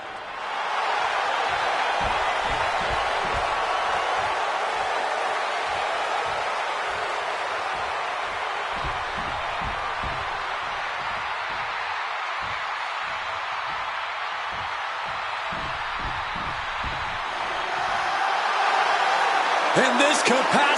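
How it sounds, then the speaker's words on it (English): A capacity wrestling arena crowd in WWE 2K26 roars for CM Punk, a loud sustained wash of cheering with rhythmic stomps or claps underneath that swells again near the end. "this capacity crowd just exploded"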